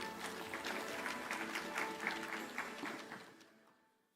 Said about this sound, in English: Let's give them a round of applause as we settle in.